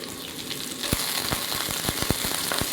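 Red onion and crushed garlic hit hot oregano-scented vegetable oil, a quiet start giving way to a steady close sizzle and frying hiss, with a few sharp clicks and taps from the pan.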